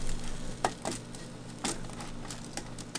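Food sizzles in a preheated frying pan, a soft continuous frying hiss broken by several sharper crackles and pops, with a low steady kitchen hum beneath.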